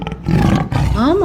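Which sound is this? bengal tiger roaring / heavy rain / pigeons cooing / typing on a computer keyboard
bengal tiger roaring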